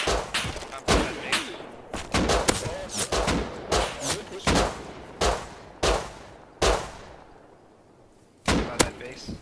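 Enemy players firing guns in the video game Rust, a string of sharp separate shots at an irregular, fairly quick rhythm, loud and close, with a short lull near the end before more shots and some talk in the background.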